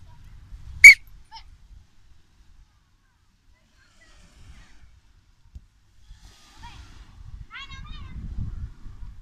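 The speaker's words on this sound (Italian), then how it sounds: "Aspetta che fischio." A referee's whistle at a two-on-two beach football game gives one sharp, loud, short blast near the start, followed by quiet beach ambience and faint distant chatter.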